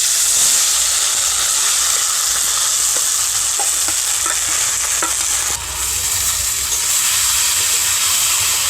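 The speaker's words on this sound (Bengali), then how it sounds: "ভিজিয়ে রাখা সাবুটাকে কড়াইতে দিয়ে দেব" Soaked sago pearls tipped into hot ghee in a wok set up a loud, steady frying sizzle and hiss that runs unbroken, with faint stirring scrapes and no talking.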